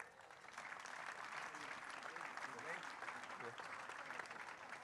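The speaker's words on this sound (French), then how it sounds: "on peut l'applaudir bien fort" An audience at a Nice tribute ceremony applauds a singer, a steady wash of clapping from many hands lasting several seconds at moderate loudness, with a host's voice briefly audible underneath.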